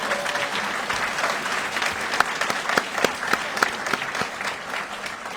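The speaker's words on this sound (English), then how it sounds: "Let's give him a round of applause." A round of audience applause at a military training graduation ceremony, many hands clapping in a dense, sustained wash with a few sharper individual claps standing out near the microphone.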